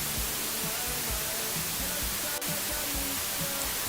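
Steady white noise looped from a streaming media source, a constant broadband hiss with an even level throughout and one brief click partway through.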